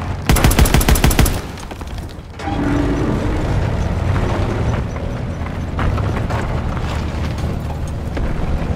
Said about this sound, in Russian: Слышу стрельбу.